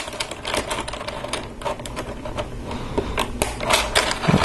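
LEGO pieces from a City Volcano Crawler set being fitted together, with a run of small sharp plastic clicks and taps at irregular intervals, close and fairly crisp, with no talk.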